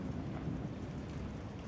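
Thunderstorm in Zhaoqing, China, with a faint low continuous rumble of thunder blended with steady rain noise, distant and soft throughout.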